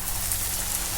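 A gram flour kachori fries in hot oil, a dense, even crackling sizzle that continues briefly and close up, with no voices.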